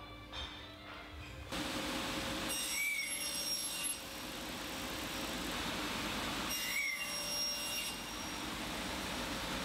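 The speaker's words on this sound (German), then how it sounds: "Dafür einmal den Längsanschlag an der Formatkreissäge verstellt und dann eine Hälfte in 45 Grad abgeschnitten." A sliding table saw cutting wood at a 45-degree angle in a joinery workshop: a loud, steady whining drone, with two brief rising bursts as the blade passes through the workpiece.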